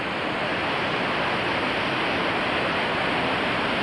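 Falls Creek, fed by mountain snowmelt, rushes as a steady broadband roar of flowing water, loud and unbroken throughout with no voices.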